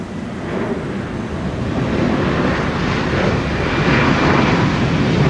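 A jet airliner on takeoff from runway 30 at Minneapolis–Saint Paul airport, a broad, loud engine roar that builds steadily and holds, with no voices.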